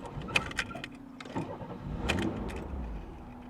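A 66k-mile Oldsmobile Cutlass Supreme that arrived broken has its engine turning over and running briefly, rough and uneven, before it falters and dies, heard up close.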